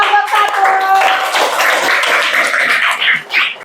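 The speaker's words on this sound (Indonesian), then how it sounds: "tepuk tangan buat kelompok 1" Schoolchildren in a classroom clap their hands for a student group, brisk and close, with chatter and voices mixed through the clapping and a tonal sound near the start.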